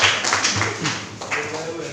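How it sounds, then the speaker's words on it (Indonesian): A class of students claps for classmates after a group photo, a steady patter of hand claps running throughout under a teacher's voice. "Oke, tepuk tangan dulu buat mereka."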